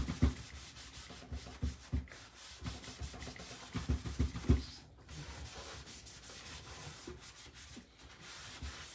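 Sanding a wooden step stool by hand, rhythmic scraping rubs in short strokes, close and fairly loud, easing into a softer continuous rubbing toward the end with no talking.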